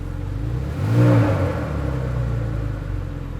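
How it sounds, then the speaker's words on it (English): A black 2009 Porsche 911 Turbo engine swells in one smooth rev about a second in, then settles back to a steady, low, rumbling idle nearby. "Very, very smooth sounding Porsche."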